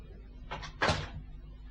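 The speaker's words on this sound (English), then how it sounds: "Close the door." An office door is pushed shut, with a soft preliminary knock of the latch followed by a firmer closing thud, close by in a quiet room.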